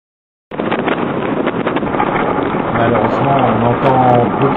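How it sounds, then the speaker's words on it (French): Strong wind buffets the microphone on a boat, a loud continuous rumbling roar that fills the whole clip, with a faint voice buried underneath. "Malheureusement, on entend beaucoup de vent."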